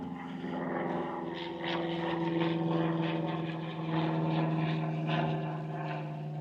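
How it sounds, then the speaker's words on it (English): Small two-seater propeller plane flying overhead on a countryside trail, a steady droning engine hum with a pulsing propeller beat, fairly close and swelling slightly as it passes. "Plane going overhead, little two-seater."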